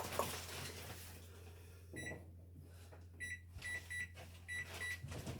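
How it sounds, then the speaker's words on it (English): A combi microwave oven being set to preheat on convection at 180: a run of sharp, high electronic beeps in short clusters over a steady low appliance hum, with a few faint button presses between. "I'm going to preheat oven to convection 180"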